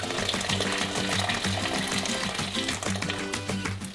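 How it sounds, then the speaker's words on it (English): Boiling water poured into a large pot of simmering beef broth, a steady close gushing and splashing stream that runs unbroken throughout. "so we pour some boiling water in"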